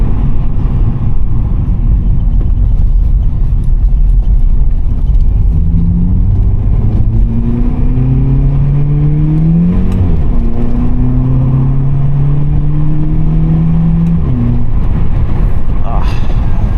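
A VW Polo GTI with a 7-speed DSG accelerates hard on a damp road, the loud in-cabin engine note climbing through several rising sweeps as it shifts, with a person talking over it.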